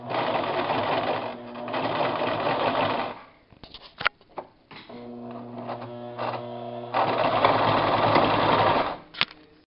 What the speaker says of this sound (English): you sew this part right here, just from like the end to the joint before it goes up